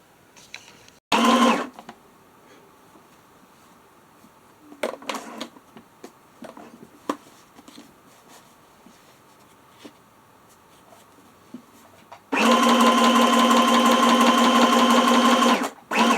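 A home sewing machine stitches around the edges of a junk journal quilt page in two bursts, a brief run early and a longer loud whirring stretch later, with quiet handling, paper rustles and clicks between them.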